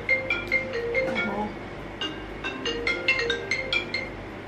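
A phone ringtone plays a repeating melodic pattern of bright tones in two bursts, moderately loud indoors over a low steady hum.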